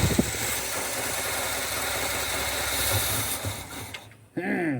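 A carbureted square-body Chevrolet Bonanza truck engine idles after sitting for 15 years, a steady, close, slightly uneven rumble that holds for several seconds before briefly dipping near the end.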